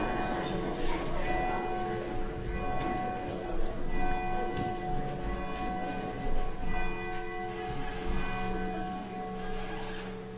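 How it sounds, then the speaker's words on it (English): A church bell tolls to open a Sunday service at Grace United Methodist in Paynesville, Minnesota, its sustained ringing tones layered with a few louder strikes, heard with faint room noise in the sanctuary. "Can you ring the bell to start our service since we're already into it?"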